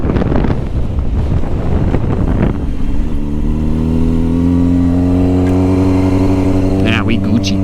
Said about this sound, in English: Wow, that wind is terrible.